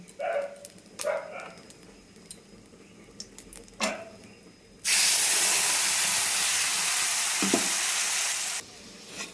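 Spices land in a hot pan for a mustard fish curry and burst into a loud, steady hiss of sizzling that lasts several seconds. Clanks of stirring and handling come before it, then the sizzle cuts off abruptly.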